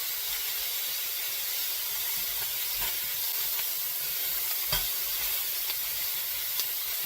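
Mushrooms cooking down in a hot pan, giving a steady, even sizzle and hiss with no talk over it.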